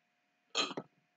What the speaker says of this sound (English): Why do I keep burping?